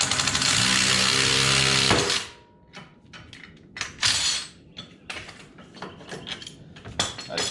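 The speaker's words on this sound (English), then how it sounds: "so I'll get in there with a wrench and take off that nut" A loud burst of mechanical noise for about two seconds, then a wrench ratcheting and clicking in irregular bursts while it loosens the 17 mm lower ball joint nut on a Honda Pioneer side-by-side's front suspension.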